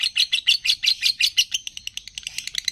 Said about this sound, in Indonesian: Dari tadi nggak berhenti teman-teman burungnya, padahal nggak ada lawan di sini, nggak ada burung lain